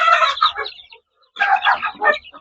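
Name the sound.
free-range village chickens clucking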